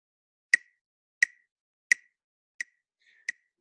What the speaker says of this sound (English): Let me open up my metronome here.